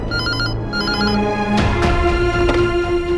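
A telephone rings twice in a short burst of repeating electronic tones, loud and close, with a mournful music score swelling underneath in a dramatic family scene.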